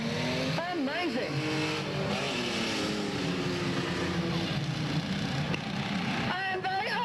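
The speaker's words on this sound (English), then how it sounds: "46 cars! And they are just thundering in there." A pack of 46 race cars roaring around a track, engines droning continuously with shifting pitch sweeps as cars pass, loud and dense, under excited commentary.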